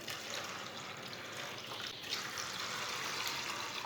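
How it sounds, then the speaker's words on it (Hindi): Water poured into a cooking pan (kadhai) over chana dal, steady splashing and filling noise close by, continuous for a few seconds with no speech. "3 गिलास पानी डाल लेंगे।"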